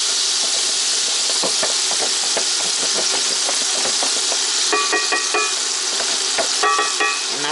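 Half an onion frying in hot oil gives off a loud, constant hiss and sizzle with crackling spits and a few clinks from the pan, and nobody speaks.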